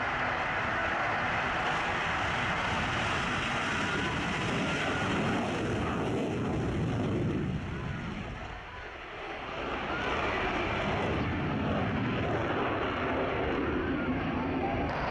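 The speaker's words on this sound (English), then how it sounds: "Royal Danish Air Force with the F-16AM Fighting Falcon. Brilliant takeoff with a dirty takeoff roll" A Royal Danish Air Force F-16AM Fighting Falcon roars during takeoff at an air show, a loud, broad, sustained jet rumble that dips briefly as it passes and then swells again.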